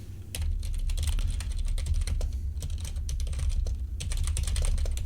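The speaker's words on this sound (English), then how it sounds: "Just typing to everyone." Rapid, steady typing on a computer keyboard, dense clattering keystrokes running throughout with brief pauses, over a low background hum from a game.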